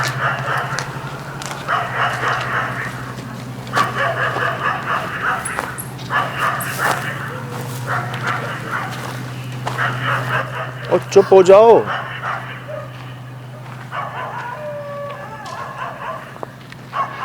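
Several dogs bark and yip repeatedly at night, fairly close, in rhythmic bursts mixed with whimpers, while people talk over them and a steady low hum runs underneath.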